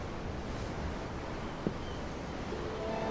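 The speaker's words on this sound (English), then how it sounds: "I'm looking at the ocean. The ocean? Yeah. The waves." Ocean waves in the video game Tales of Arise, a soft, continuous wash of surf and wind holding steady throughout, with one faint knock partway.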